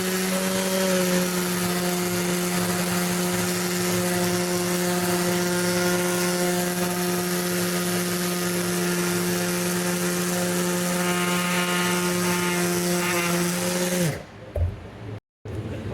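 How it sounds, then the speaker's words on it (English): A power sander with 320-grit paper sanding spray paint off an old golf club: a steady, loud mechanical whine with a constant droning hum runs unbroken for about fourteen seconds, then cuts off, leaving brief quiet handling noises. "I'm going to start by sanding off this really bad spray paint"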